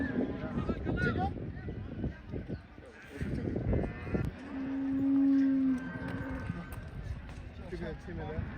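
Cattle at the Yining bazaar livestock market in Xinjiang give a long, low moo partway through, amid busy crowd noise and nearby voices talking.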